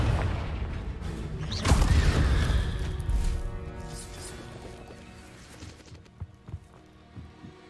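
A Confringo blasting spell from a Harry Potter video game erupts in a loud, booming crash that swells and rumbles for a couple of seconds, then fades into scattered thuds and clattering debris.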